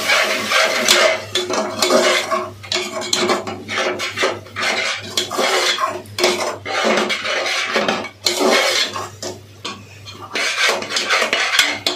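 A spoon scrapes and clanks around a pot as yogurt is stirred into biryani masala, in an uneven rhythm of close metallic scraping with a low hum in the background.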